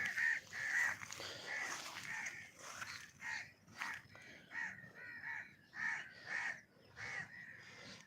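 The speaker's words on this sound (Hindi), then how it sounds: "ये कौवे हैं, इनका कोई घोंसला होगा क्योंकि ये रिएक्ट कर रहे हैं" Crows caw repeatedly near their nest, harsh calls coming in an irregular series of loud bursts that sound close, with a faint outdoor background between them.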